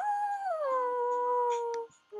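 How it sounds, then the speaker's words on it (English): A corgi's drawn-out howl from a romance story video game, a single sustained tonal wail that slides down in pitch, then tapers off, heard alone without talk. "the little corgi howl"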